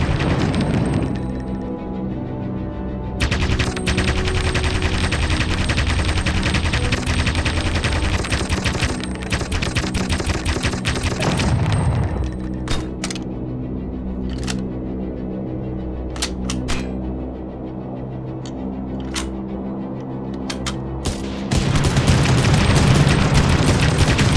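Rapid bursts of WWII aircraft machine-gun fire in the Aviators flight game, dense rattling volleys under a droning engine, pausing midway with scattered single shots before a heavier sustained burst returns.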